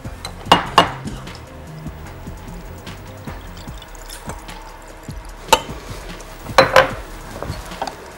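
Ice cubes clink and clatter into a glass for dalgona cocoa, several sharp bright knocks in short bursts, close and alone against a quiet kitchen background.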